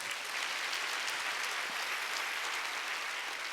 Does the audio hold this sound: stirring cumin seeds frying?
no